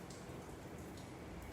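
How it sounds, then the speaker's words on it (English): Rain falls outside in a steady, faint, even hiss with no breaks, heard from indoors. "Here comes the rain."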